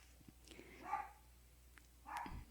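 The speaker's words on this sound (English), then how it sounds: "There are the dogs again." Dogs bark in the distance outdoors, two faint separate yaps about a second apart over a low, quiet background.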